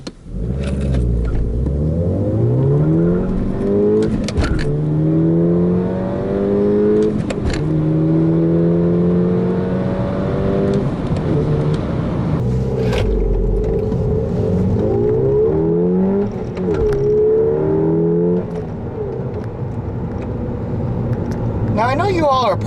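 A 2010 Volkswagen GTI with a 6-speed manual accelerating through the gears, its engine note rising repeatedly with pauses at each shift, loud and close inside the car, with a voice speaking over it.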